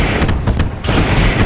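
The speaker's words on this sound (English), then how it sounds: "And wow, them fireworks are freaking loud." Loud fireworks exploding in a rapid, overlapping volley of booms and crackles at a sprint car race, heard close and dense for a brief burst.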